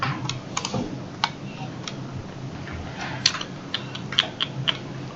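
Scattered mouse clicks while working in SketchUp, sharp isolated ticks spaced irregularly over a low room hum.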